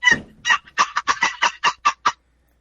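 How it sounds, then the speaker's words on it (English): A tiny cedar box turkey call rasping out a quick series of about nine yelps, loud and close, starting with a longer stroke and then speeding into evenly spaced notes with no voices. "That's that little tiny cedar call."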